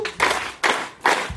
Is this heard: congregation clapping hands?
yes